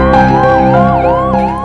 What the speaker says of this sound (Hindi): एम्बुलेंस की ये लाइन डराती है।